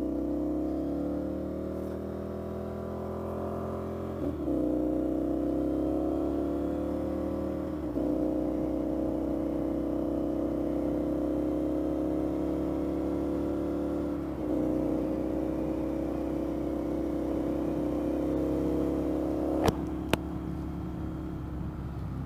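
An Indian FTR 1200 motorcycle accelerates hard through the gears, engine note rising in repeated pulls with brief dips at each shift, steady and fairly loud under wind rush.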